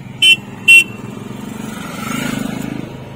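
Motorcycles of touring bikers on a Ladakh mountain highway: two short honks near the start, then a steady engine drone that swells as the bikes pass close by.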